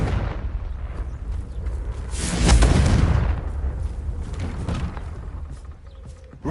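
A fiery Confringo blasting spell goes off in a Harry Potter-style video game, a deep booming explosion that swells and rumbles for about a second amid ongoing game noise.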